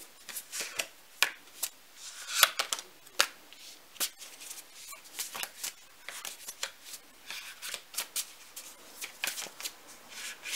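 Tarot cards being shuffled by hand, a run of crisp riffling bursts and flicks in uneven rhythm, close and fairly quiet, with no talking.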